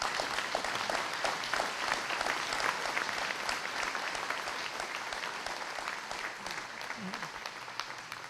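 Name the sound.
audience applause for caterers and volunteers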